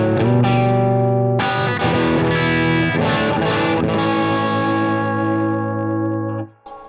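Distorted electric guitar chords on a humbucker pickup ring out through a Mesa Boogie Mark V:25 amp, a few strums then long sustained tones that cut off abruptly near the end.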